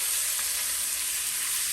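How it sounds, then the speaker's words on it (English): Chopped garlic and onions sizzle steadily in a pan for a corned beef Guinness stew, a loud, even hiss with no one talking. "once our onions have been cooking about 6 minutes, we're going to add 4 cloves of chopped garlic"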